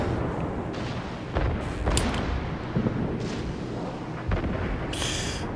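Warship main guns fire a salvo in the naval battle game World of Warships, heavy distant booms and cracks scattered over a dense background of battle rumble, with no talk.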